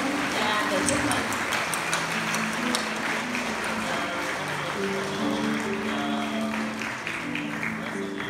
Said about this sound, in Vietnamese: Xin chúng ta cho một tràng pháo tay thật lớn thay cho tiếng pháo